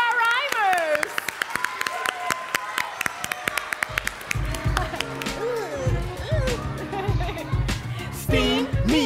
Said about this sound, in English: Let's give a round of applause to our rhymers.